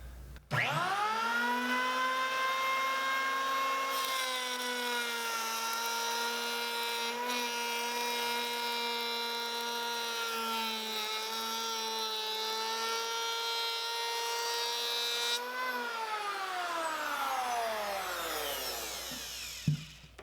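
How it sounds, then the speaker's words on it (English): A Jellas power hand planer spins up and cuts across wood in one long, loud, steady pass. A constant high motor whine and cutting noise continue throughout, then the motor winds down at the end. No one speaks. "Once the planer's going, it does move quite easily."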